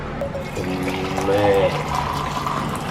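Freshly boiled herbal tea pours steadily from a pot, a continuous liquid stream with a rising fill tone, close and moderately loud under background voices.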